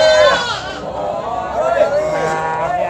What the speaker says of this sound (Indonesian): ini ada kambing-kambingnya Mas Sabik yang tadi juga